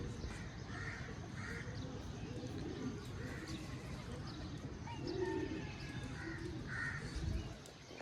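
Racing pigeons coo and flutter faintly on a rooftop, their soft calls repeating over a low rumbling background with distant murmuring.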